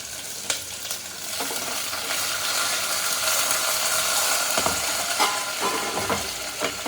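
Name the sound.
chopped vegetables added to tempering of cumin and curry leaves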